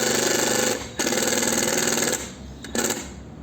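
An impact driver with an Inco screwdriver bit hammers Phillips screws in close, loud bursts of rapid rattling impacts, with two short pauses between drives.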